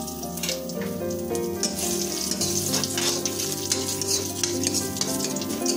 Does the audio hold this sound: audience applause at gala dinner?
no